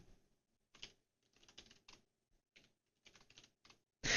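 Typing on a computer keyboard into a command console, scattered quick bursts of clicking keystrokes with short pauses, close and fairly quiet.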